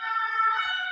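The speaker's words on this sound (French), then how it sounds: "l'ambulance est passée" Ambulance siren sounding steady and fairly loud for about a second, a bright multi-tone wail with no voices over it.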